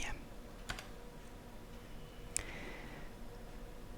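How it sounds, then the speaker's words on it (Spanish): Typing a username and password on a computer keyboard for an AS/400 login, with a few sparse, faint key clicks over quiet room hiss. "vamos a poner el nombre del usuario y la contraseña"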